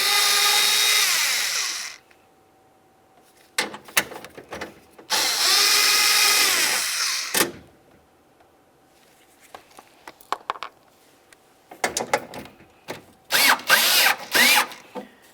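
Two long bursts of a power drill whirring as it removes front window regulator bolts from a Dodge Dakota, separated by quiet, followed by clicks, clatter and a few shorter, choppy drill bursts near the end.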